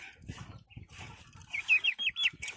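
Young chickens on a farm while feed is being mixed: faint, close peeping and clucking in short bursts with some soft wing flutters and low background shuffling.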